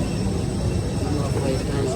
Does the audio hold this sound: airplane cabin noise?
yes